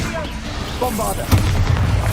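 A Bombarda blasting spell in Hogwarts Legacy detonates as a sudden loud boom followed by a sustained low rumble, after a brief stretch of spell-casting effects and voice.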